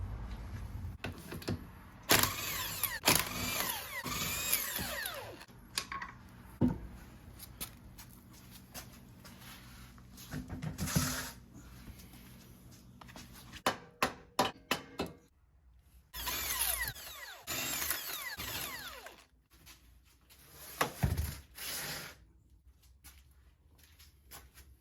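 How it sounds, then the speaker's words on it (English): Power tools and impact guns working on a car's wheels and suspension components in a garage, with repeated short bursts of whirring and rattling, separated by pauses and clanks of parts. "So I'm gonna go ahead and start by taking off the wheels, go ahead and dropping the rest of the components"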